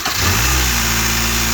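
A car engine catches right after a short crank following a spark plug change, quickly settling into a loud, steady running hum up close.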